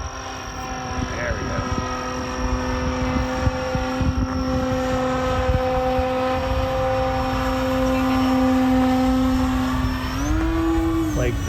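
An E-flite Turbo Timber RC plane makes a high alpha knife edge pass with nearly full rudder, its electric motor and propeller holding a steady whine that rises in pitch near the end, with talk over it.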